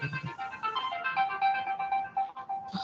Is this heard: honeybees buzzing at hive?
no